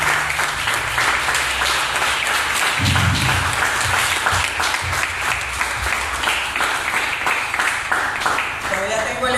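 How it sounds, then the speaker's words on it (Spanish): A church congregation applauds during a service, loud, continuous clapping from many people with cheers and voices mixed in throughout. "Bríndenle un aplauso al Señor"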